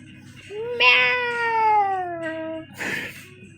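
A cat at a cat farm gives one long, loud, drawn-out meow that slides downward in pitch, followed by a short, rough burst of noise, with no talking.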